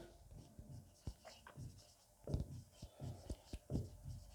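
Chalk or marker strokes scratch across a board as examples are written, in irregular bursts of short scrapes and taps, close and fairly faint, with no talking over them.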